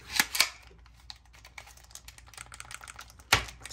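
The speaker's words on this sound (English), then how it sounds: "Still clicky buttons" Buttons on a Razer Kishi mobile controller for Android click sharply, with a few louder snaps and a run of quick, light clicks between them, close up with no talk.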